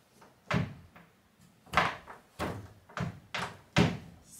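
A wooden door is pushed repeatedly into a frame that is too tight at the top, producing five or six loud, close thumps and knocks in an uneven rhythm, with no voices.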